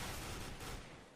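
Dense gunfire from a Counter-Strike match, a steady, loud spray of shots with no clear gaps, sustained for about a second alone.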